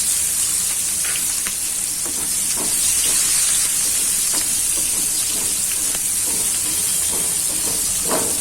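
Onions sizzle in a hot pan for a creamy malai onion curry, a loud continuous close hiss and crackle with occasional scraping stirs over the top.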